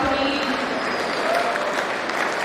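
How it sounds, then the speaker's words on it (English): Continuous audience applause at a school gathering welcoming an MLA guest, a dense, even wash of clapping from many hands with faint voices mixed underneath. "Please put your hands together in one round of applause and welcome to us"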